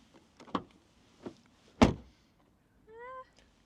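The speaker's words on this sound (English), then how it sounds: "Rear doors, better with the GLC than the front door." Rear door of a Mercedes-AMG GLC 43 swings shut with one solid, close thunk, followed by a short electric whir, after a few lighter clicks and taps in a quiet setting.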